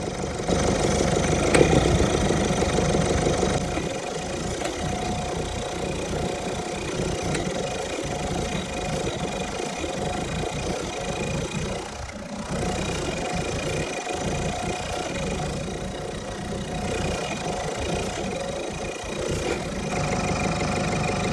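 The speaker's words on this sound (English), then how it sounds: "You don't want to spray enough to stall the engine" A Ford Fiesta's engine idles steadily throughout, a continuous low rumble with a faint rattle, close by and unchanging, no voices.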